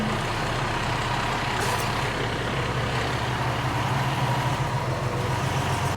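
A heavily loaded dump truck drives slowly, its engine a constant loud, close rumble with broadband road and cab noise that stays steady throughout.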